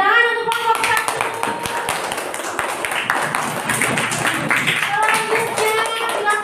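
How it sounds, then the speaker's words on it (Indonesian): Group applause in a classroom after a group presentation, a burst of rapid hand clapping from many people, loud and close, with voices heard at the start and end. "Tepuk tangan untuk kelompok 1."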